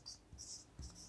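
Brief strokes of a marker or chalk writing on a board, with two or three quiet scratchy bursts in quick succession, faint and close in a quiet room.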